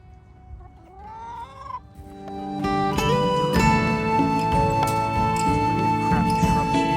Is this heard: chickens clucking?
yes